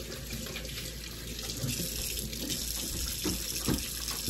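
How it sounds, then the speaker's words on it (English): Tap water runs steadily into a kitchen sink while hands are washed, a close, continuous splashing hiss with small shifts in the flow and no talking. "Just gonna wash my hands first."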